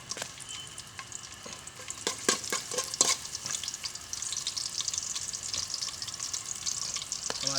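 Garlic frying in hot oil sizzles steadily with a crackling, spattering hiss and occasional stirring scrapes, close and continuous with no voices.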